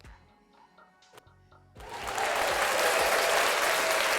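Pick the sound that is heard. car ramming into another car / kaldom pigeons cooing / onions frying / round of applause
round of applause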